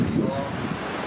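Strong wind buffets a microphone outdoors, making a continuous low rumbling roar with gusty swells and no clear speech.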